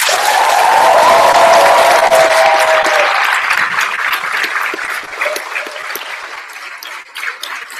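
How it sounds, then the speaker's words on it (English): A crowd at an EGEA general assembly breaks into big, loud applause with some cheering. The clapping stays dense at first, then slowly thins and fades. "I would also like to have one big applause for the candidacy of EGEA Zagreb"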